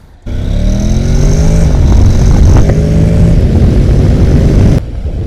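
A Honda NC750X DCT motorcycle engine runs loudly under wind rush while riding, with a quick throttle blip midway before the sound cuts off near the end.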